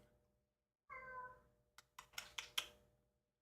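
A feisty cat meows in one drawn-out call up close, followed by a few short clicks and taps like keyboard typing, with no talking.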